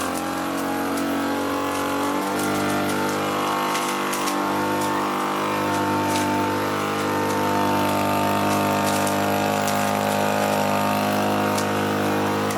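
A combine harvester's engine runs at about half throttle, a loud, steady, close drone with a dense whine that holds throughout.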